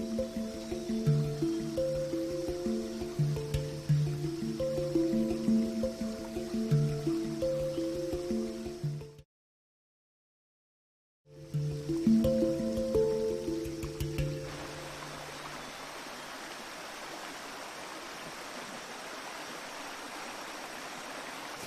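Water trickles and gurgles steadily through a stream in a Malaysian forest. Tonal music runs over it at first, then stops. After a short silence the flowing water continues alone, softer and broad.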